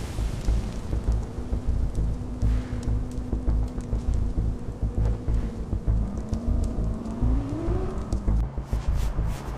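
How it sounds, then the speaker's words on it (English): An old truck engine approaches outside a remote cabin, a heavy low rumble that stays steady under gusty noise, then a rising engine tone swells near the end. "Suddenly, he hears the sound of an engine."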